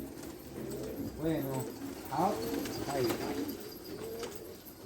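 A domestic pigeon, newly acquired and shown off as a strong bird, coos in soft repeated rolling notes close by, mixed in with someone talking over it.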